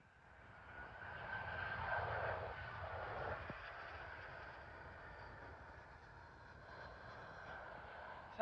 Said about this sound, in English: Arriving now is a Eurowings A319 from Hamburg.